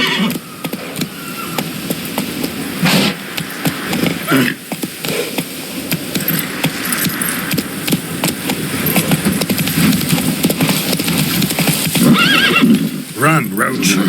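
A horse in The Witcher 3 gallops with rapid clip-clopping hooves and neighs loudly, continuous throughout, with a voice speaking over it.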